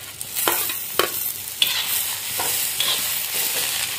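Tomatoes sauté in a pan while a rajma curry is cooked at home. A steady sizzle is broken by several sharp spatula taps and scrapes as the pieces are stirred, with no voices.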